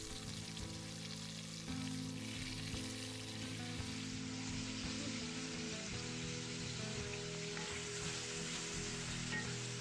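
Onion and carrot soften in a hot pan for a Mallorcan lamb stew, giving a steady close frying sizzle that crackles continuously with faint stirring and no talk.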